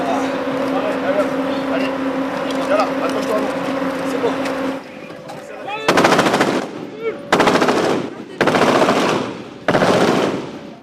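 Machine gun supporting fire during a French military operation in the Central African Republic in 2014, heard as several loud sustained bursts separated by short pauses, with engine hum and voices underneath earlier on.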